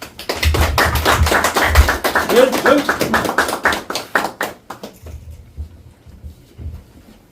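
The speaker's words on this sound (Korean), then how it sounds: "큰 박수로 환영해 주십시오." Audience applause welcoming a chairman's year-end address at a Korean Marine Corps veterans' year-end gathering, a dense burst of clapping that thins and fades over the final seconds.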